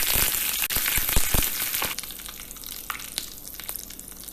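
Mustard seeds and curry leaves hit hot oil for a tadka, giving a loud, close sizzling hiss with sharp pops and crackles that are densest at first and then thin out over a few seconds.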